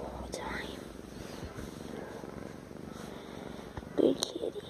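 A soft, low purring rumbles close by, faint and continuous, with a quiet voice murmuring over it.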